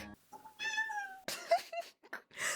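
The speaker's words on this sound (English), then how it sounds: "My cat just meowed at me to give him food." A cat meowing for food, close and clear, with a long drawn-out meow followed by several shorter, rising cries.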